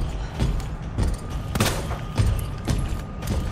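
Rapid bursts of gunfire in Resident Evil 2 Remake, repeated sharp booming shots in quick succession with thumping impacts, loud and close.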